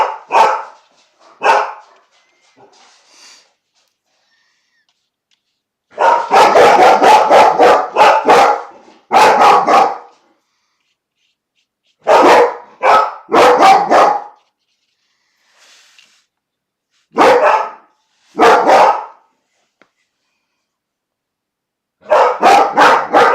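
A dog barks loudly and close by in repeated bursts of several sharp barks. Each burst is separated by silence, and a few softer yips come early on.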